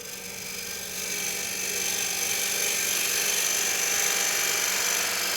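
Skew chisel taking light shavings on a wood lathe turning a votive holder, a steady broadband whirring hiss that grows slightly louder after the first second and holds continuously, with no talking.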